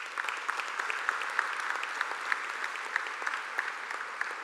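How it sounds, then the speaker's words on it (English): An audience applauds a keynote speaker at a Grand Conclave event in New Orleans, steady dense clapping with sharp individual claps standing out, moderately distant and without talk. "Ladies and gentlemen, please give him another round of applause."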